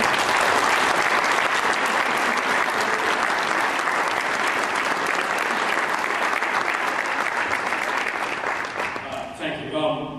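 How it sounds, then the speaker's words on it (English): A sustained round of applause from a large audience at an award event for a football coach, dense and steady for several seconds before thinning out, with a voice coming in near the end. "if we can give my parents a round of applause"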